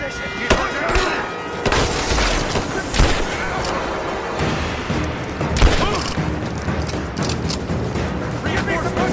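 Gunfire and explosive booms in Rise of the Tomb Raider, a continuous loud firefight with sharp bursts and heavy impacts, while shouted voices sound over the battle.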